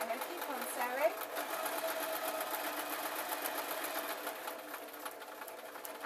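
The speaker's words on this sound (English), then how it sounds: "So I'm going to keep on sewing." A sewing machine runs a steady plain running stitch through a fake lamb's fur cushion, whirring continuously and close up for the whole stretch with a faint irregular mechanical chatter.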